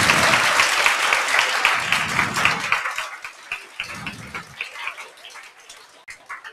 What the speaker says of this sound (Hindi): अब बैठे बैठे एक बार सर के लिए जोरदार तालियां बजा दो।